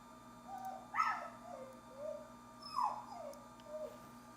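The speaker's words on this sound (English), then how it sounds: "Who is he growling at?" An indoor dog whines and growls at someone in the hallway, with a few faint, rising whimpers spaced over several seconds in a quiet room.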